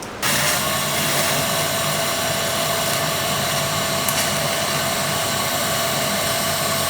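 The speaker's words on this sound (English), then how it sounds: "we're gonna weld this exhaust back together" A welder hisses and crackles in a steady, unbroken stream, loud and close, welding an exhaust pipe on a turbo Nissan Hardbody, starting abruptly and running without pause.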